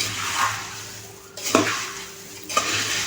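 A spoon stirs sugar through a batch of maize-flake poha chivda in a pan, with dry rustling scrapes and two sharper clinks against the metal, close up with no talk.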